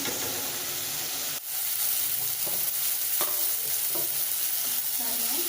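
Onion and tomato frying in a pan for a ridge gourd curry, a steady hissing sizzle with a brief pause, then irregular scraping and stirring strokes nearby.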